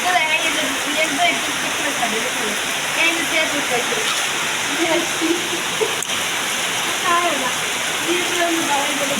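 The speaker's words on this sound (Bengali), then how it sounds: "বৃষ্টি পরে টাপুর টুপুর" Steady rain pours down outdoors in a dense, even hiss that fills the whole stretch, with people talking over it.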